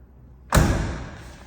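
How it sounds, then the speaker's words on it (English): A single solid thump as the door of a 1967 Chevrolet Camaro swings shut, close and loud, its short dull impact decaying quickly into quiet. "Doors close as they should"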